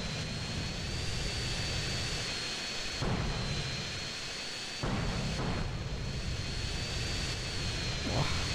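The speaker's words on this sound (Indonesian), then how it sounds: "anjing ada jet lagi" Roaring jet aircraft noise from the video game GTA San Andreas, a steady loud engine wash with whining tones that persists throughout, while a voice gives a brief exclamation.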